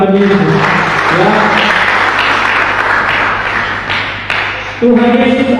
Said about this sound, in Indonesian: Tepuk tangan dulu bagi Tuhan Yesus